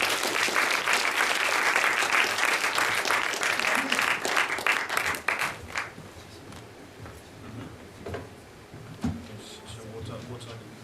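Audience applause welcoming a speaker at a student scientific society event, a loud dense clapping that fills the first half and then fades into scattered claps and room noise.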